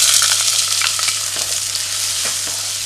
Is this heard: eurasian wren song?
no